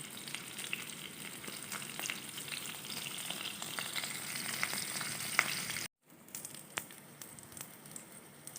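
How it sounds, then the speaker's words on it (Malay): Salted kurau fish frying in a little oil, giving a steady, close crackling sizzle that breaks off for a moment near the end and then resumes. "Kita gunakan minyak yang sedikit untuk menggoreng ikan kurau ya."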